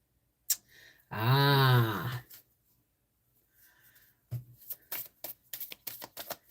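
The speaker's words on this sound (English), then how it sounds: "I'm going to pull you a card, Avonlea Ann." Tarot cards shuffled in a riffle-like burst, followed by lighter card handling and soft taps, close and fairly quiet with no talking.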